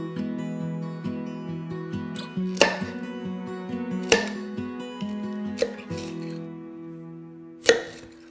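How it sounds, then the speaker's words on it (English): A knife chops broccoli into bite-sized pieces on a board, four sharp, separate chops spaced a second or two apart over steady background music. "we're just gonna cut everything into bite-sized pieces"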